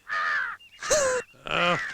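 A crow caws three times in quick succession, loud and close, with short pauses between the harsh calls and nothing else around.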